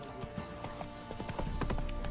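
Horse hooves clip-clop at a steady trotting rhythm in The Witcher 3 on Xbox Series X, a brief run of close, distinct hoofbeats over low game ambience.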